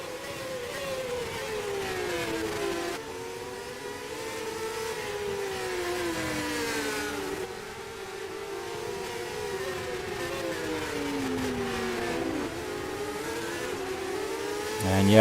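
Formula 3 race cars at Autopolis International in the rFactor 2 racing game: a sustained engine whine rises and falls with repeated upshifts and downshifts, steady and fairly loud, with no talking.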